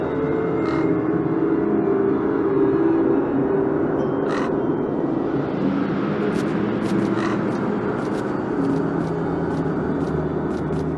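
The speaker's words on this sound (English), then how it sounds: "Place the horse meat on the pole the fly crows will fly to it." Crows in the video game The Dark Eye: Chains of Satinav caw repeatedly, scattered short calls growing more frequent toward the end, over a steady low rumbling background.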